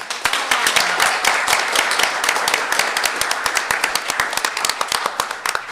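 A small crowd claps steadily for several seconds, dense rapid hand claps that stay fairly loud and then begin to thin out.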